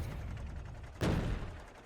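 A single sharp cannon shell blast from a tank firing yellow shells in the video game Factorio, one loud burst that decays over about a second, following a lower rumbling backdrop.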